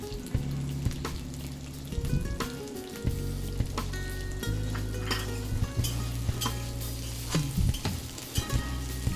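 Cauliflower, potato, green chili and onion fry in oil with a steady, loud crackling sizzle, broken by frequent metal spoon scrapes and clinks against the pan, heard close with no talking.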